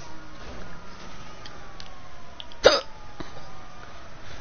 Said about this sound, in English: I have these stupid hiccups.